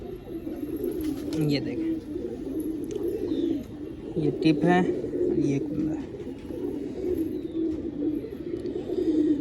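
Soft, low pigeon cooing close by, repeating intermittently under someone talking in Hindi.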